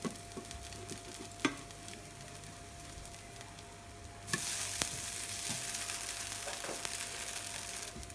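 Dosa batter cooking on a hot griddle for a crispy South Indian breakfast, giving a steady low sizzle that jumps louder partway through, with a few brief clicks and scrapes and no voices.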